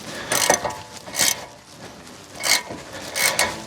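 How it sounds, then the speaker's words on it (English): An Allen wrench tightens the lock nut on a Better Flex Off Road sway bar quick disconnect for a Jeep JK, giving four short bursts of ratcheting metal clicks separated by brief pauses, close up with no talking. "I'll use an Allen wrench."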